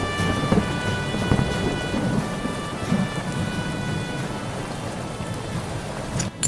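Thunderstorm sound effect with steady heavy rain hissing and deep rolling thunder rumbling beneath it, loud and continuous with no voices.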